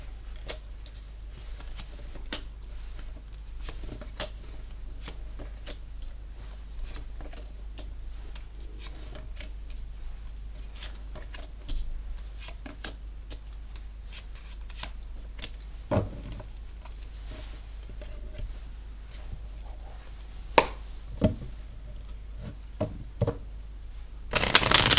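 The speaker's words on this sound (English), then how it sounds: "bear with me till I lay the cards out" Tarot cards are shuffled and laid out on a table in a quiet room, with soft riffling, light taps and scattered small clicks as cards are placed, a louder knock near the end, no speech.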